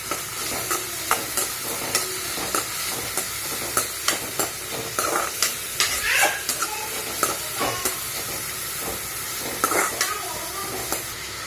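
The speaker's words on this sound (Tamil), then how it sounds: "நல்லா வதக்கி விடுங்க." Vegetables such as cauliflower, potato and peas are stirred and sautéed in a pan for vegetable noodles. Soft sizzling runs under repeated scraping and clinking of the spoon against the pan, close by.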